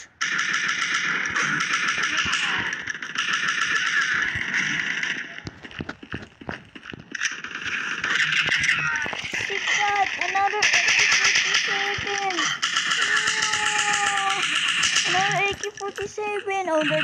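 Pistol shots ring out in the Bullet Strike shooter game, repeated sharp bursts mixed with game music and effects, while a voice talks throughout.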